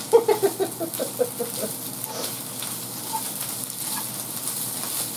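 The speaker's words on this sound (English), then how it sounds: "And you hear the sizzling, that's the onion." A steady, moderate sizzle of frozen onion frying in a pan, with a few soft taps and clicks near the start.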